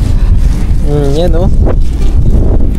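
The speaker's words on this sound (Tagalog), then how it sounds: "tas sobrang lakas pa ng hangin ngayon" Strong wind batters the microphone with a constant low roar and rumble, loud and close throughout, while someone speaks briefly over it.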